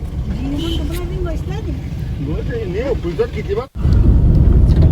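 Steady low road rumble and engine hum inside a car while riding, heard close and continuous under a person speaking.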